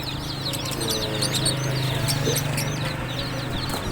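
Small chicks peep in quick, high overlapping chirps among other birds at a busy bird market, with clucking fowl and low background murmur beneath.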